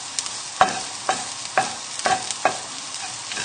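Garlic and shallots sizzle in a pan under a soft steady frying hiss. About five sharp stirring scrapes come at roughly half-second intervals, close and clear, with no talking.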